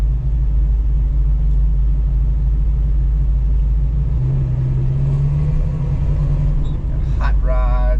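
A line of hot rods and older cars, including Mustangs, Impalas and an old Volkswagen, rumbles past at a fun run cruise, the low engine drone steady and close, with a voice speaking briefly near the end.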